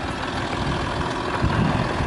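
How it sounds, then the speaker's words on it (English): A Land Rover Discovery 3 engine idles quietly and evenly, a soft, steady low rumble ticking over close by with no other sounds. "As you can see, it's running, it's very quiet, ticks over nicely."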